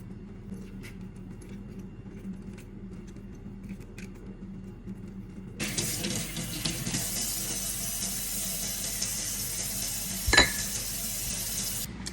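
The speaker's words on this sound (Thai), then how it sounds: "นำส่วนนี้ไปล้างแล้วก็ผึ่งให้แห้งค่ะ" Running tap water starts partway through and streams steadily over corn husks being rinsed, with a brief clink near the end after a quiet, low-humming start.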